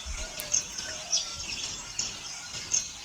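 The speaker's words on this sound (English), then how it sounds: "So these oriental magpie robins are passerine birds, which means that they're also called as the songbirds." An oriental magpie robin sings in the forest of Tadoba Andhari Tiger Reserve, giving four short, thin, high chirps spaced across a faint outdoor background.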